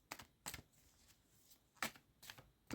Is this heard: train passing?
no